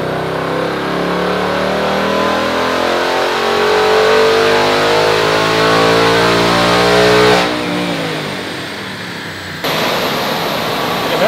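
A 2024 Ford Mustang Dark Horse V8 on a dyno revs hard and steadily climbs in pitch under heavy load, roaring loudly with audible intake sound, then drops off abruptly as the throttle is released.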